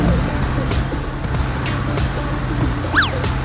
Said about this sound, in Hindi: देखो चिंटुआ के पापा, मेरा प्यारा बाबू कितना बढ़िया टेम्पो चला रहा है।